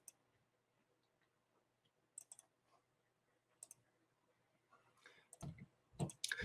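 A computer mouse clicks in the AWS CloudFormation console, giving sparse, sharp single and double clicks close by in a quiet room, growing busier toward the end.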